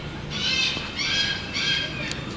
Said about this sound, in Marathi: त्यात हॉर्नबिलचाही आवाज कानावर येतोय